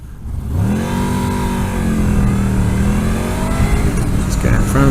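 A motorcycle labors at about 65 mph up a hill into a strong headwind, its engine droning steadily and loud throughout, with a rising tone at the start and wind rush blended in.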